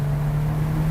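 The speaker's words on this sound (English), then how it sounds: "This engine has won every award going in the last 5 years. You can see why. Just punches so hard in every gear." Ferrari Roma Spider, a 612bhp Ferrari GT convertible, accelerating hard on an open road, its engine a steady, loud drone with a strong low hum and no talk over it.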